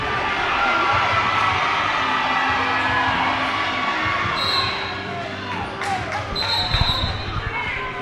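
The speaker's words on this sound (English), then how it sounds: "Number 11 touches the ball, and the crowd goes crazy." Basketball arena crowd at a Steel City Yellow Jackets game, a dense roar of cheering and shouting that stays loud throughout, with a few sharper whoops near the end and voices mixed into the din.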